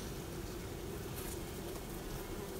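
Honeybees from strong colonies in a polyhive in April hum in a continuous, low, dense drone close by, steady and unbroken, with no talking.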